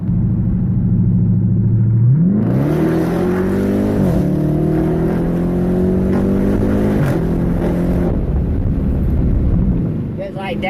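A Hemi car with a 5.7-litre V8 accelerates hard, its engine note climbing through gear changes with strong rumble and wind noise, loud and close throughout.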